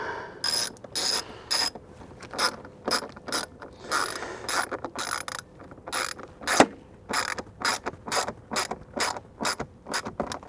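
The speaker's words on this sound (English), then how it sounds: "We're just going to wrench these down." A ratchet wrench tightens bolts on a motorcycle tour pack, giving a close, steady run of rapid clicking bursts with short pauses between strokes, no talking.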